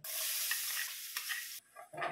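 Garlic sizzles hard in a hot pan with steady stirring, a loud continuous hiss that drops away briefly near the end before a short burst of frying returns.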